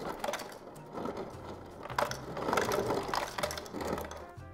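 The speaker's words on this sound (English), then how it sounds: "The refrigerator crushes your ice for you, bro." Home refrigerator dispensing crushed ice, a rapid grinding rattle with clattering ice chunks in short uneven bursts, fairly faint and close, with no talking.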